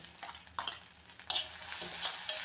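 Okra and capsicum sautéing in a pan, with a soft steady sizzle and a few sharper scraping stirs of a utensil against the pan, close and alone with no talk.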